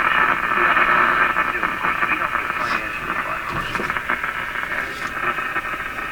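An RCA Victor A23 tube radio plays continuously while being tuned across the AM dial, giving a steady hiss and static with garbled station audio drifting in and out and occasional crackles.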